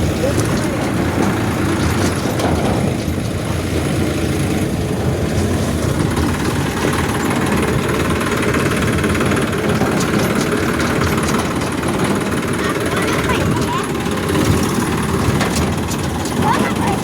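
A tractor engine runs steadily and loudly throughout, a continuous low rumble under intermittent voices talking nearby.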